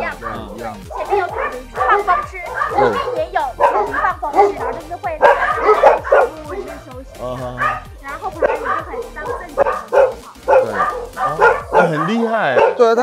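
Several dogs at a shelter bark, yip and whimper in a loud, busy chorus throughout, close by, with people talking over and between them.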